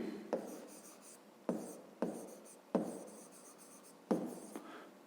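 Pen writing out a math solution on paper for a 5th-grade exercise: quiet, close scratching strokes in several separate bursts, each starting with a sharp tap, with short pauses between them.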